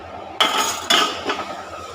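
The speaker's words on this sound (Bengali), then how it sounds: "এবার আমি এটাকে ঢাকা দিয়ে দেবো" A metal lid clanks twice onto a pan of mustard hilsa curry, followed by a softer settling clink over a faint background sizzle.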